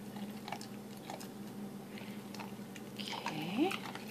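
A dog chews its breakfast food up close, with sporadic soft crunches and bites over quiet room tone and a brief tonal voice-like sound near the end.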